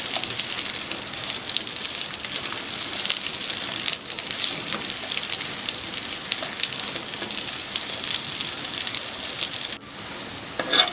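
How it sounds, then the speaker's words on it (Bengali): Long strips of pointed gourd fry in mustard oil in a kadai, a bright continuous sizzle with light crackles and occasional scrapes of stirring, steady and close throughout. "খুব ভালো করে আমি এটা নেড়ে দেব"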